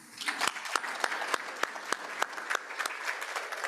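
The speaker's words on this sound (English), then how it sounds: "I'll ask you to stand after I read your name so we can give you a round of applause" Audience applause for guests being introduced at a Rotary club meeting, a steady room-filling clatter of many hands with sharper claps poking through, continuous for several seconds at moderate loudness.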